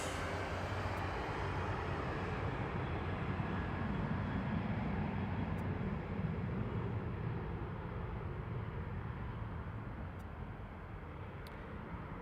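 An airliner taxis toward the runway at Harry Reid International Airport in Las Vegas, producing a steady, broad jet rumble at a distance that eases slightly near the end, with no talk.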